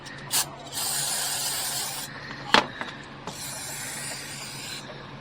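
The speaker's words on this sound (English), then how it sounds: "I bought a new can of carburetor cleaner just for this." Aerosol can of carburetor cleaner sprayed into a small engine carburetor, two long steady hissing bursts with a short puff before them and faint clicks and knocks between, close and fairly loud, no talking.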